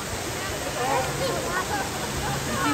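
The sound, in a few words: waterfall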